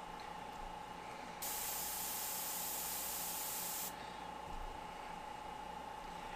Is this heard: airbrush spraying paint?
yes